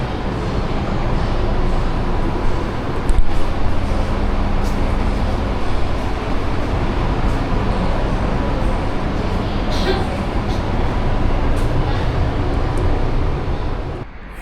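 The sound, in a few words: metro train in Guangzhou station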